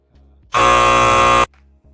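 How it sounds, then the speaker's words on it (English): A single long electronic buzzer blast, loud and steady for about a second, cutting in and out sharply over a quiet background hum. "That sort of buzzer."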